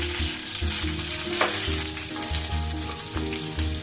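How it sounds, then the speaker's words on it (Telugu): Mustard seeds, cumin, curry leaves, onion and green chilli fry in hot oil for puri and aloo curry, a loud close sizzle with a steady crackle and rhythmic low thumps from stirring in the pan. "ఆవాలు, జీలకర్ర, కరివేపాకు, ఉల్లిపాయ, పచ్చిమిర్చి వేసుకున్నానండి."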